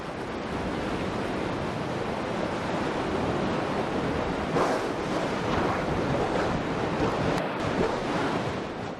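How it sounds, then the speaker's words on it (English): Steady roar of surf from the 10-foot-high standing waves of a riptide in an ocean pass, wind buffeting the microphone throughout, continuous and loud with no voices. "when the tides change, the 10-foot-high standing waves of the riptide become the bottlenose dolphins' playground"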